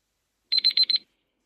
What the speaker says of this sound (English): The buzzer has been pressed by Khushi.